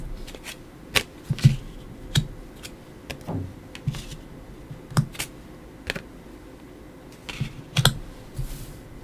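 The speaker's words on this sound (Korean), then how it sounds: "타로 카드 열어볼게요." Tarot cards being handled and shuffled close up: a series of crisp flicks, taps and short riffles at irregular intervals over a quiet background, with no talking.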